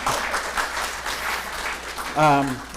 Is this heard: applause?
yes